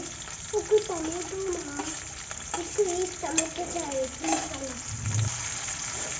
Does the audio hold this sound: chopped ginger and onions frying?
yes